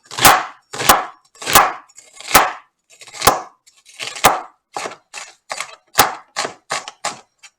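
A knife slices an onion on a cutting board in a steady series of about fourteen crisp, close chops, the strokes quickening toward the end, with no talking.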